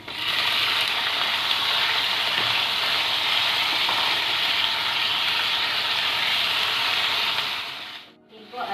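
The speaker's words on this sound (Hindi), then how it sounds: "इनको अच्छी तरह से हाई फ्लेम पर कुक कीजिए जब तक चिकन का कलर चेंज ना हो जाए" Chicken stir-frying over a high flame with ginger, garlic and green chili for Korean fried rice, a loud, dense, continuous sizzle and hiss close by, cutting off abruptly near the end.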